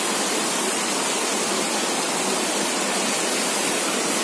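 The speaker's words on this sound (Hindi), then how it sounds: "देखो, बारिश हो रही है बहुत तेज" Heavy rain pours down at night in a steady, dense hiss that stays loud and unbroken throughout, with no voices heard over it.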